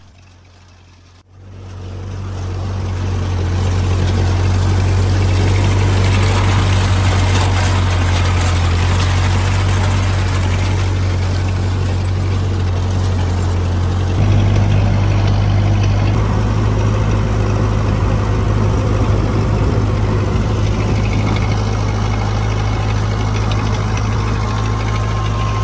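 Ford 8N tractor engine running steadily outdoors, a loud continuous low rumble that kicks in after a brief quiet start and holds for the rest, shifting slightly partway through, with no talk.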